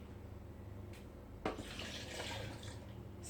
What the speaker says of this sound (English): Slowly pour it into your blender.